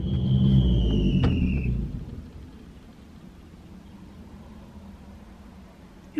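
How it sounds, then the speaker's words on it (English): A car passing by outside, a heavy low rumble with a thin whine that is loud for about two seconds, then fades away into quiet background noise. "You guys hear that fucking car?"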